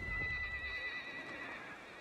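A horse neighs in the strategy game Total War: Warhammer 3, a sustained whinny heard faintly in the distance over low rumbling background noise, with no talk.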